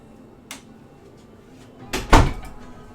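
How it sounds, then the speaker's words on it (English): A bedroom door closes with a soft click followed by a louder thump as it shuts, preceded by a faint tap a second and a half earlier. "close the bedroom door."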